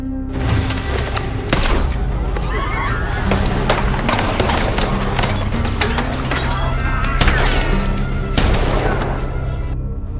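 Gunfire in a film battle scene: a dense, loud, continuous mix of rapid shots and cracks layered with horse whinnies, hoof clatter and mechanical noise, with voices in the mix.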